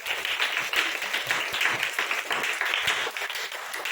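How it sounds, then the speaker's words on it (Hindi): A church congregation claps along in a worship service, fairly quiet, with irregular hand claps and some crowd noise over about four seconds. "ताली बजाओ ना"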